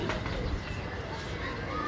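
Pigeons on a rooftop coo softly amid a noisy outdoor background, with low, murmuring bird calls that stay faint.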